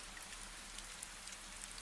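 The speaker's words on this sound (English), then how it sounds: "only the gentle sound of rain, falling, falling, and falling" Gentle rain falling steadily over an old garden in the evening, a soft continuous hiss with scattered light drop patters, quiet and even throughout.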